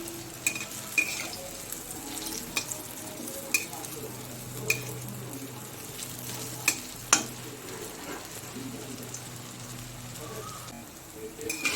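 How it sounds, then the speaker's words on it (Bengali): Lentil dhoka fritters fry in hot oil with a steady sizzle close by, broken by regular light clinks and scrapes of a utensil against the pan. "তেলটা গরম হয়ে গেছে। এবার বড়াগুলো ভেজে নেব।"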